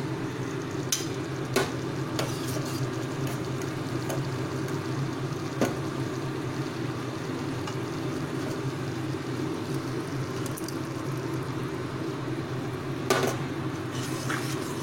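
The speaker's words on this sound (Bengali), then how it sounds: "ভালোভাবে এবার আবারও মশলাটিকে কিন্তু কষাতে হবে।" Masala paste for a paneer dish fries in oil, a steady close sizzle with a spoon scraping and stirring around the pan and occasional sharp clinks against the metal.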